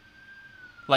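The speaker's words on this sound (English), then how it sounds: "You can hear a siren going around behind me." A distant emergency siren passing outside holds a steady, faint wailing tone behind a quiet room, then a sudden louder burst of sound cuts in at the very end.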